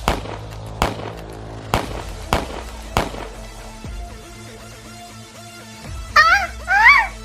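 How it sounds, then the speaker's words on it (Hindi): Gunshots ring out as a sound effect in a romantic audio drama: five sharp, loud bangs spaced about a second apart, followed by quieter rumbling and a pair of high, warbling tones near the end. "भाई तू हम पर गोलियां क्यों चला रहा है?"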